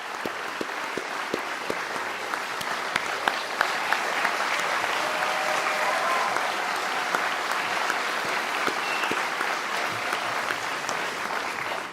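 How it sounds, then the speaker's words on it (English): A debate audience at an Arizona Republican U.S. Senate primary applauds for a congressman in the crowd, sustained even clapping with a fairly distant, roomy quality and no talk over it. "Let's give a round of applause for Congressman Goldwater."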